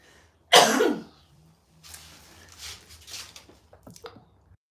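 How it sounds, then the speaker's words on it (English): A single loud, harsh cough up close, followed by quieter rustling and faint breathy throat noises. "I'm about to cough, so I'm going to take a cough break and drink some water"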